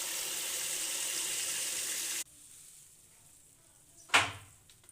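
Water rushing over leutia saag greens being washed, a steady hiss that drops to a quieter trickle midway, with one brief splash near the end; no talk.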